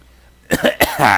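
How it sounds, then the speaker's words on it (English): A single person coughs and clears their throat, a few sharp close bursts after a brief quiet moment. "Clear my throat. My throat's all dry."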